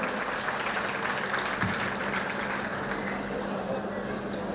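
An audience at a centenary festival honouring former office-bearers gives sustained, dense applause that holds steady throughout, a loud and continuous patter of many hands.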